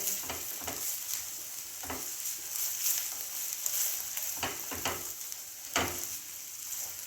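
Raw turmeric roasting slowly in a pan over a low flame, giving a steady soft sizzle with scattered scraping stir sounds, close and with no voices.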